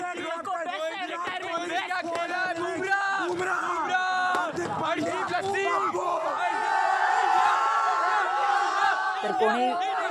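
Dense crowd of cricket fans celebrating India's T20 World Cup win out in the streets, many voices shouting, chanting and whooping together, loud and close throughout without a break.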